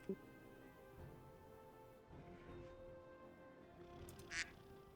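A cartoonish duck quack from a Discord soundboard rings out once near the end, short and bright over a quiet background hum during a World of Warcraft raid session.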